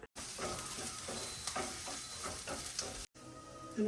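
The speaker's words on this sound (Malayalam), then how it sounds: "ബട്ടറിൽ സോട്ട് ചെയ്ത് ഗ്ലേസ് ചെയ്തെടുക്കുകയാണ്" Mushrooms sautéing and glazing in butter in a pan give a steady close sizzle with bursts of stirring, a brief cut near the end, and no talking.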